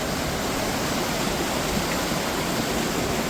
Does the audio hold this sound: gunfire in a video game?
no